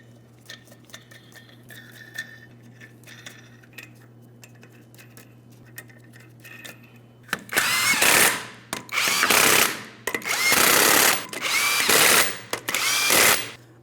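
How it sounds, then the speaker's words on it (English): An impact tool runs down the 21mm lug nuts on the rear wheel of a 2015-2025 Ford Transit 250, starting with a quiet hum and faint clicks, then a string of loud, close rattling bursts, one per nut. "We'll start on each one of our 21mm lug nuts."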